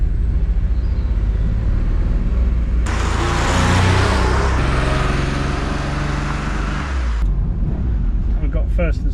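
A car engine with a misfire runs while driving in first and second gear, a rough uneven drone rising louder midway, with someone talking over it.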